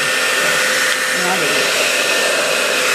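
A strong hair blow dryer runs loud and close at full power, a steady broadband roar that holds constant throughout with no talking.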